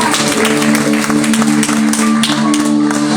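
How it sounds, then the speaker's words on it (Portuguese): A church congregation claps along during worship, a steady wash of applause running the whole time beneath loud sustained musical chords. "Você pode aplaudir ao Senhor."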